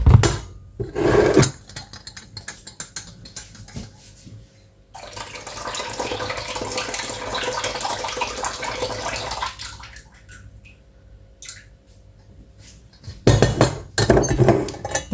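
Tap water runs steadily for several seconds during a second rinse of washed items in a home kitchen on Eid al-Adha, framed by clinks of dishes and handling noise before and after, with no talking.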